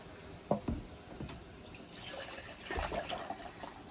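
Water poured onto a still-burning fire at a mountain hut, with drips, splashes and a low hiss in short bursts, fairly quiet and close.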